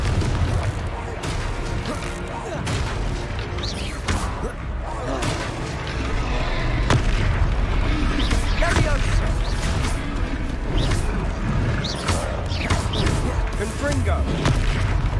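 Repeated blasting-spell explosions in Hogwarts Legacy on PS5 booming through a dense game battle, with a steady roar of crashes and impacts throughout and voices calling out over them.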